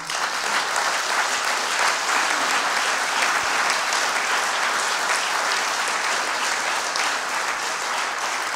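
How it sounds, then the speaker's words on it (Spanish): A hall audience at a Basque Socialist tribute event breaks into sustained, even applause, a dense wash of many hands clapping that holds steady for over eight seconds with no speech. "Un aplauso para Anchón"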